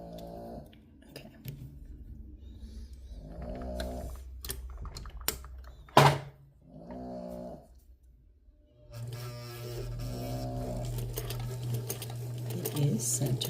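A Hamilton sewing machine with a stuck selector knob runs in several short bursts of rapid mechanical stitching, close and clear, with pauses between runs and a person talking in the gaps.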